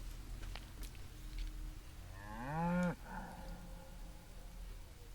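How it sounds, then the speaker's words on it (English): A single drawn-out cow moo from a video game, rising and then falling, heard alone over a quiet low background hum. "Why does the cow make me uneasy?"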